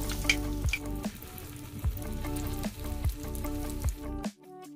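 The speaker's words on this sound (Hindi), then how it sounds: "अब हम एक एक करके इसमें अपने कटलेट को जो है डालते जाएंगे।" Mixed vegetable cutlets fry in moderately hot oil, giving a close, steady sizzle and crackle with a regular pulsing rhythm before stopping suddenly near the end.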